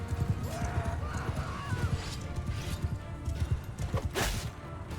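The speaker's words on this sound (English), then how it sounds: "Go, go, go, horse." A horse gallops in the medieval battle game Mount & Blade II Bannerlord, with quick rhythmic hoofbeats running steadily under battle noise, a brief neigh-like cry partway through.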